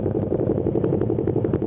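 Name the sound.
motorcycle engine idling while warming up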